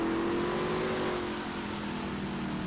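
Race car in a racing video game at Mid Ohio, nearly coasting down a straightaway at about 60 mph; a steady, loud engine drone with a slowly shifting pitch, no talking.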